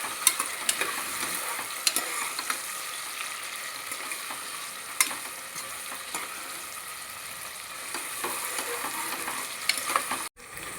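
Tomato pieces and ginger garlic paste fry in hot oil with a continuous close sizzle, broken now and then by brief scrapes of a stirring spoon. The sizzle cuts out abruptly near the end. No voices.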